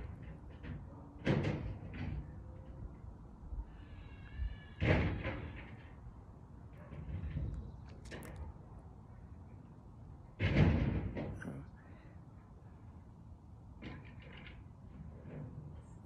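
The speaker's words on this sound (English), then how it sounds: "There's a repair going on in my neighbor's house." Carpenter repair work at a neighbouring house, heard from outside as scattered knocks, thumps and bangs at irregular intervals, some fairly sharp, over a low background hum.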